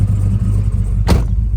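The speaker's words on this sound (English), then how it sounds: "Now I'm going to shut the door." A 1968 Pontiac GTO's door slams once, a single sharp thud about two-thirds through, over a steady low engine rumble.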